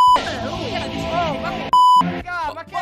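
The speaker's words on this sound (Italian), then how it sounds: "Che la sento dentro ai timpani, sta suoneria." A phone ringtone sounding during a Fortnite gaming session, sharp steady electronic beeps at the start and again near the end, loud and close, with excited talk and voices in between.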